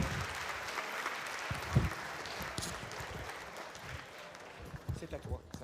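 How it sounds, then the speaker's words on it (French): Audience applause at an apprentice diploma ceremony in Nice, a steady wash of clapping from a hall full of people, with voices talking over it and rising near the end. "Je vous demande d'applaudir la directrice adjointe du CFA"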